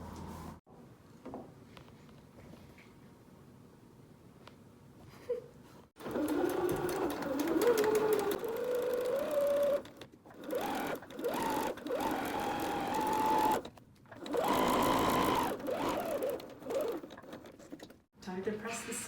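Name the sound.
sewing machine sewing cushion fabric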